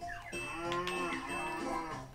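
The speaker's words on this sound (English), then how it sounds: "Cow." A cow moos in the Banjo-Kazooie video game, one long, loud, low bellow with a wavering pitch, over game music.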